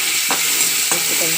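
Cumin seeds and chopped onion frying in a pan for an egg curry, a steady close sizzle with two or three brief scraping stirs, no voices.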